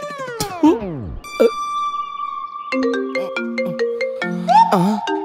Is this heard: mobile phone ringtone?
yes